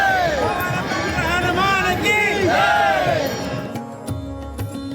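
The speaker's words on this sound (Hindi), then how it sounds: "दर्शन करने के लिए उमड़ी भीड़" Crowd of devotees gathered at temples in India, a dense hubbub of many voices and shuffling, with individual calls rising above the babble before it thins out near the end.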